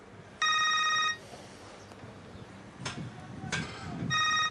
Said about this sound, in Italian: Il lavoro lo assale, il telefono squilla.